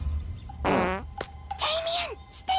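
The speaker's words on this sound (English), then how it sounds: "I'm farting right" A cartoon fart sounds twice: a long buzzy ripping blast, then after a short gap a rising, wavering one. A character's voice briefly chimes in and near-silence separates the blasts.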